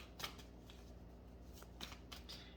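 Intuitive reading cards being shuffled by hand, a few crisp riffling bursts spaced across a quiet room, close and moderately soft with no talking.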